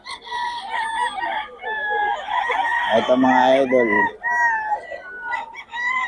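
Rooster crowing mixed with steady clucking from nearby fowl, a loud crow rising in the middle amid ongoing cackles, with someone speaking briefly over the birds.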